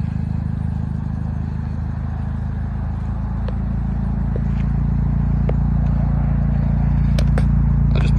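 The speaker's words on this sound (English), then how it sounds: "The car is running as well. You might be able to hear the exhaust on it." A 2018 Toyota Corolla XSE sits running at idle, its exhaust giving a steady, loud low rumble that holds evenly throughout, with a few faint clicks and taps over it.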